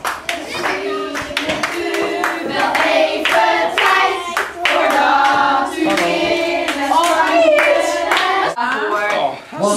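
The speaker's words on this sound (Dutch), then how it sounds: "Ja, dan mag je best wel applaudisseren allemaal hoor." An audience at a Sinterklaas celebration applauds in dense, continuous clapping, near and loud, lasting throughout with a low steady hum underneath.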